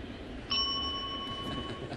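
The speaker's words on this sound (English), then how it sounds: "I think I heard a bell." A single clear bell ding rings out at a Cubs at Marlins baseball broadcast, a bright struck tone that sustains and slowly fades over steady crowd murmur.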